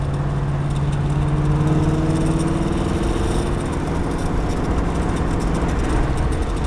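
A 1960 Corvette convertible engine idles steadily with a deep, loud, even rumble that holds without revving.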